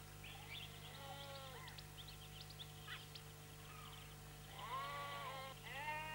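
Sheep bleating on newly cleared pasture land, several wavering calls, fairly faint, with a louder pair of bleats near the end and no voices.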